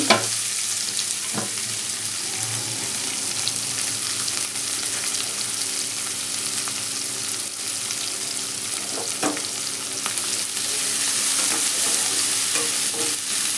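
Sliced onions and green chillies sauté in an open pan for a chickpea-free plantain stir-fry, giving a continuous close sizzle with occasional sharp scrapes and taps of a spoon stirring, no voices present.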